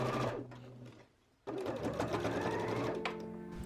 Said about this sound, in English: Then it's just time to sew the sleeves into the dress.